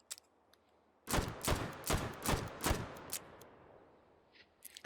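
Slugger rounds fired from a gun in the H3VR video game, a quick burst of about six sharp gunshots spaced roughly half a second apart, loud and close against a quiet background.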